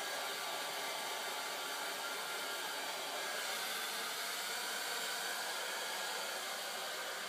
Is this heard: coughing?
no